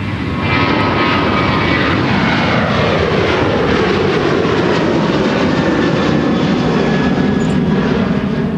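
A Delta jet airliner takes off at Minneapolis–St. Paul airport, its engines a loud, steady broadband roar that holds throughout with slowly shifting tones, near and continuous with no talk.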